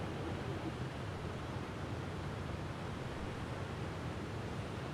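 Steady broadband rumble of an MD-11 freighter cockpit at cruise in the X-Plane 11 flight simulator, a constant even wash of noise with no breaks, voices or distinct events.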